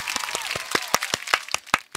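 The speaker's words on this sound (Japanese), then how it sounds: "この拍手音割れしてない、大丈夫かな。" A burst of applause sound effect, uneven crowd clapping with sharp individual claps popping out, loud and slightly harsh as if distorted, with no talking.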